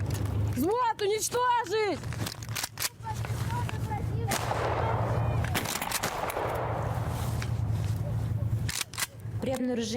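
Rapid bursts of rifle fire from a platoon shooting at enemy soldiers, loud, close and repeated across the clip, with shouted commands over the shots.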